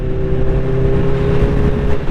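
Honda CBR1000RR motorcycle with an SC Project full exhaust system idling steadily, a loud close continuous engine drone with a low rumbling tone and no speech.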